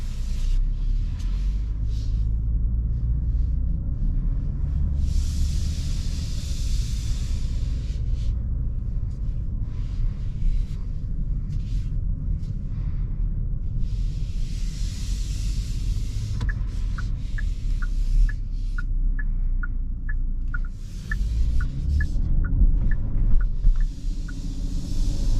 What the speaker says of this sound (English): let's go ahead and take this Genesis GV70 on a drive and see how it does